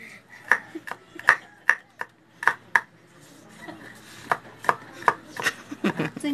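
Garlic being chopped for chicken-head adobo, knife strikes landing on a board in quick bursts of several sharp thuds, close and clear with short pauses between runs.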